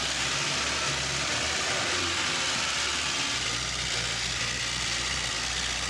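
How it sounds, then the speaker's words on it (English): A steady, loud engine of a 40-year-old Coca-Cola truck rumbles continuously throughout, with a deep low-end drone and broad mechanical noise, close by. "Listen to that engine roar."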